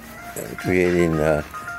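A mobile phone ringtone plays a short bright electronic melody of stacked tones, loud and close, with brief murmurs of talk around it.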